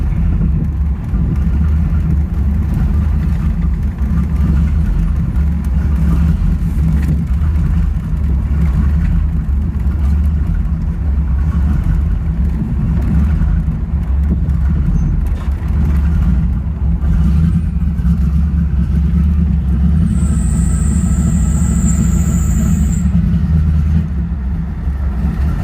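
A car engine idles low and steady, a constant deep rumble that stays loud and close throughout, with a brief high-pitched whine partway through.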